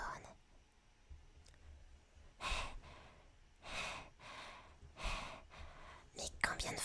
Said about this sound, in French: Mais combien de fois on va être essoufflé aujourd'hui?